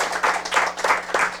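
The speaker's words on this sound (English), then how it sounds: "give yourselves a big round of applause" A studio audience at a junior science quiz claps in brief bursts of applause, several quick waves rising and falling over a moment, moderately loud, with no voices over them.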